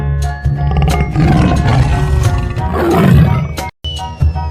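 A tiger in a children's slide video game lets out loud, rumbling roars close up, one after another, cut by a brief silent gap before a final short roar.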